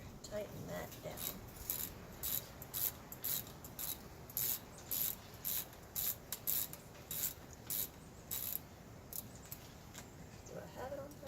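A ratchet fitted with a 10mm socket and extension tightens a spark plug, giving a rapid series of short metallic clicking bursts in an uneven rhythm, close and fairly quiet, with occasional soft mumbling under it.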